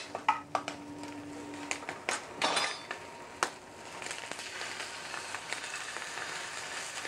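Scallops sizzling in clarified butter in a frying pan, a soft steady crackle and hiss with a few sharp clinks and scrapes of utensils against the pan early on.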